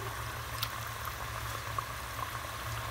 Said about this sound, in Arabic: كرميو الشباكيه تاعنا الزيت كيف ما قلت يكون سخون من قبل